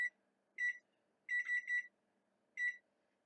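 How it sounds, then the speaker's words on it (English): A digital kitchen timer is set for 20 minutes during baking, with the oven at 350. It gives short, faint, high beeps in an uneven pattern: one beep, then three quick ones, then one more, in a quiet room. "Set my timer."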